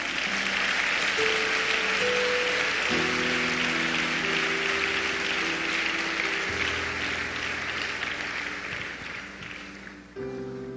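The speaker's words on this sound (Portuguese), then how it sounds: "Aplauda o nome do Senhor." Congregation applauding in a church service, sustained dense clapping from a large crowd with sustained musical tones playing underneath, steady throughout and tapering slightly near the end.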